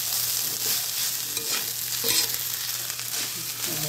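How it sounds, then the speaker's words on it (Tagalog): Chicken adobo flakes stirred and scraped around a hot pan, a steady sizzle of frying with repeated spatula scrapes and clinks at close range, no talking. "Haluin lang natin na mag-mix yung adobo."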